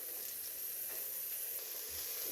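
A spice mixture with turmeric, cumin and black pepper fries in a pan with a soft, continuous sizzle and faint hiss, quiet and close, with no talking.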